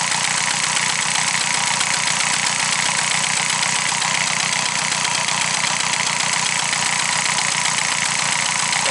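Peugeot 102 SP moped engine running steadily after a restart, a buzzy, rapid two-stroke putter heard close and loud throughout, with no talking.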